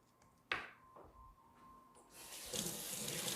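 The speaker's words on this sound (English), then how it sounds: "I'm going to give my hands a quick wash." Water from a kitchen tap runs as hands are washed beneath it, beginning with a few soft knocks and splashes and rising into a steady, close, splashing gush.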